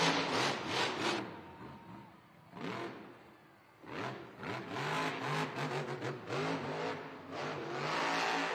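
Monster truck engine at a Monster Jam arena event in Tucson revs loudly in repeated surging waves, with a rising roar, brief dips and a sustained heavy drone over crowd ambience.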